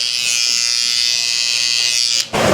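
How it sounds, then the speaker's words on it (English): A close electric shaver buzzes steadily and loudly while smoothing a low fade haircut, holding one even tone before a brief dip near the end as the blade lifts off and returns. "that's just going to give it a closer shave"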